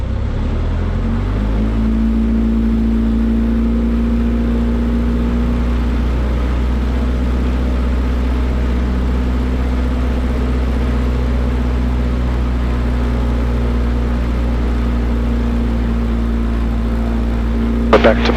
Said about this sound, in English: we're going to do a run up here. Run it up to 17, check each ignition